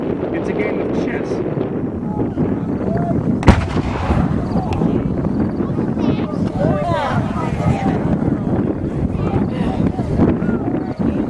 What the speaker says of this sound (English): Look at the flying artillery, flying cannon.